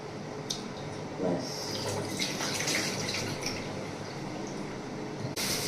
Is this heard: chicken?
no